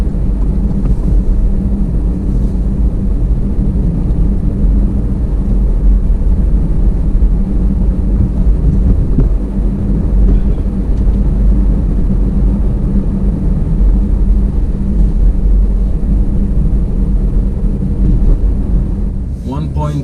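A 2018 Alfa Romeo Stelvio SUV drives hard after a drive-mode change. A steady, loud engine and road roar runs throughout under heavy wind noise, heard from inside the cabin.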